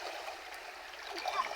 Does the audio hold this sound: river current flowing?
yes